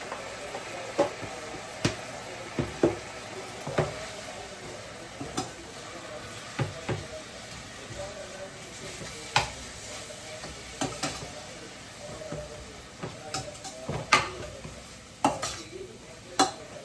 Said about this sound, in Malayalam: കടുക് വറുക്കുന്നതിൻ്റെ കൂട്ടത്തിൽ തന്നെ ഈ ഇലയും കൂടി ഇട്ട് മൂപ്പിച്ചിട്ട്